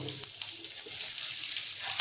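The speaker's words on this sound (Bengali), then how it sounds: "এরপর আমরা দিয়ে দিচ্ছি কেটে রাখা টমেটো" A steady, bright sizzle of chopped tomatoes frying in hot oil for egg curry, continuous and close, with no talking.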